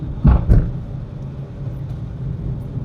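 A car on a driving lesson, engine rumbling steadily at low pitch with two brief louder bumps near the start, then a constant moderate drone with no talk.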